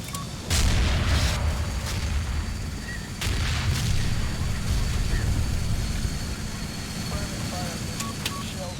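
Heavy booms of artillery fire in the war game Combat Mission: Shock Force 2 thud at irregular intervals over a dense rumbling battlefield din, with scattered distant pops.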